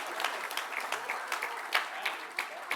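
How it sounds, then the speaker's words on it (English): Audience applause at a Canada Builds modular construction summit, a steady wash of clapping with scattered sharper claps, moderately faint and continuing without talk. "Now you applaud"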